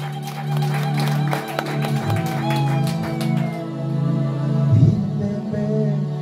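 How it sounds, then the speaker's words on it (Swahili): A church congregation claps for Jesus, with quick hand claps crowding together over a sustained, tonal musical backdrop that continues after the clapping thins out. "Wapi makofi kwa Yesu?"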